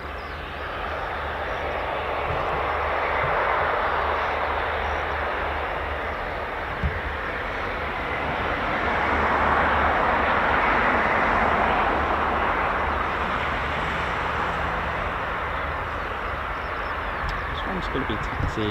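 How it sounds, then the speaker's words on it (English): Two F-15E Strike Eagle fighter jets from Lakenheath make a low approach at RAF Mildenhall, a loud sustained broadband jet roar that swells and eases over the whole stretch, with no talk. "we've had 2 F-15E Strike Eagles of Lakenheath carrying out a low approach"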